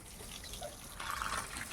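Water runs faintly from a tap as a container fills, a soft steady splash that swells slightly midway, with no voices.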